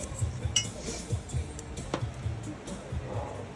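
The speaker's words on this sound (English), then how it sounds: "Put our funnel in here." Canning funnel set into a hot glass jar while preparing pizza sauce for canning, with a few soft glassy clinks and kitchen handling noises, faint and close.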